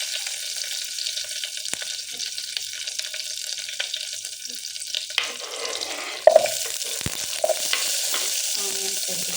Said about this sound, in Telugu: మస్టర్డ్ సీడ్స్, ఆవాలు, కరివేపాకు, కర్రీ లీవ్స్, అవి కొంచెం వేగిన తర్వాత ఆనియన్స్ వేసేస్తున్నానండి.